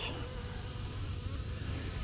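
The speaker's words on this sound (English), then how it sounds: "these bees are coming in. They're taking out some dead bees." Honey bees of mixed Carniolan, Caucasian and Italian stock at an open hive hum as a steady, close buzzing drone, with faint background noise and no clear talk.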